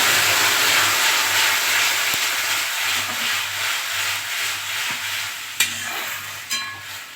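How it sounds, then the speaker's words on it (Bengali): Jute leaves drop into hot oil with frying garlic and chili, a strong hissing sizzle up close that slowly eases, with a few sharp utensil clinks near the end. "এইবারে আমি এই শাকটা দিয়ে দিচ্ছি।"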